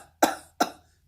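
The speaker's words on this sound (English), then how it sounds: "when I tell you to cough, you cough" A patient coughs twice in quick succession during an endometrial biopsy, two sharp, close, loud bursts separated by brief silence in a quiet room.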